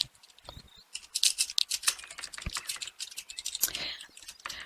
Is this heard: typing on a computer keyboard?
yes